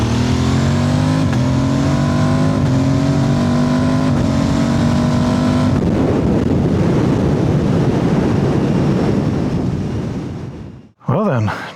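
Motorcycle engine droning loud and close with its pitch climbing, recorded through a DJI Mic Mini on the rider, then giving way to heavy wind rush before a sudden bump.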